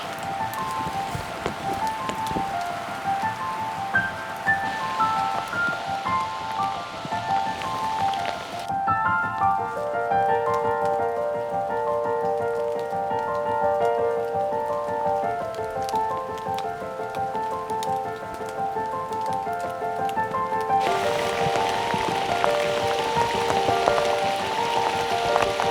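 Steady rain patters through an autumn forest, a continuous even hiss of drops on leaves and surfaces, fairly close and unbroken throughout.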